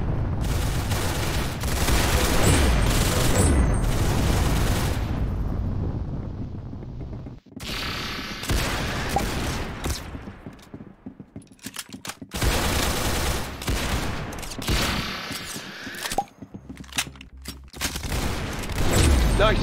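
Heavy, sustained bursts of gunfire from the Roblox game Arsenal roar loud and close, with brief pauses between volleys and booms, and a voice talking now and then beneath the shooting.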